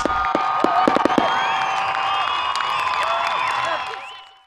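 Aerial fireworks at a small-town Independence Day celebration in Pahrump, a rapid string of sharp pops and crackles up front, then crowd cheering and whistling that carries on and fades out.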